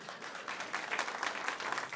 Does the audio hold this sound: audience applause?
yes